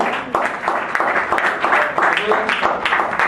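Seminar audience of a Christian network applauding in a hall, a dense steady wash of many hands clapping throughout, fairly loud and close, with voices mixed in.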